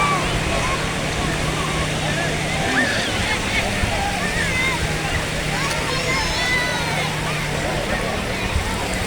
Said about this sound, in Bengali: একটার পর একটা ঢেউ আসছে।